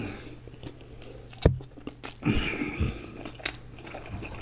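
Close-up bites and chewing of a double cheeseburger with cheese, soft crunches and wet chewing in a few irregular bursts, quiet and near, with no talking.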